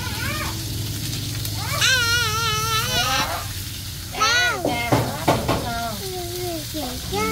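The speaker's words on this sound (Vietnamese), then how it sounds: "mẹ chiên cá mà" Fish frying in a pan gives a steady sizzle through the whole stretch, while a cat meows loudly several times close by.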